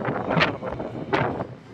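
Wind blows outdoors in Toronto, Canada, buffeting the microphone with a steady, rough rushing noise that swells in two gusts over a short stretch.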